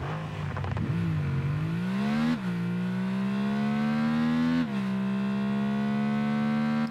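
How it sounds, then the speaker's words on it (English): A synthetic car engine in Rocket League, from the Valhalla, revs up and settles into a high steady whine, shifting pitch twice, loud and close with no talking. "the engine sound on the Valhalla is much louder than any other"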